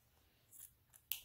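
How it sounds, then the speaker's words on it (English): Scissors snipping into black felt for a craft tray decoration, a few short crisp cuts close by, the last one sharpest, in an otherwise quiet room. "I'm going to just cut out a piece of black felt"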